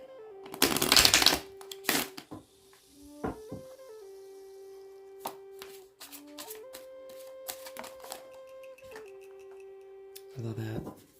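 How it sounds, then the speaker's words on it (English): Tarot cards shuffled in a loud burst of riffling near the start, then softer intermittent card taps and slides over a steady soft musical tone, with another brief shuffle flurry at the end. "Just mixing up the cards a bit"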